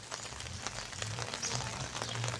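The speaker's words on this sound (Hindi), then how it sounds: "अज रात तो मुसलसल बारिश का सिलसिला जारी है।" Continuous rain at night, a steady hiss of falling drops with scattered pattering on surfaces, soft and even throughout, no voices.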